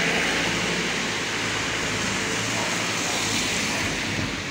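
At the seaside in Spain, a steady broadband roar of surf rolls against the shore, loud and continuous, mixed with wind buffeting the microphone, with no voices heard.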